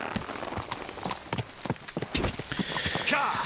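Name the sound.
horse hooves clip-clopping, from video game Kingdom Come Deliverance 2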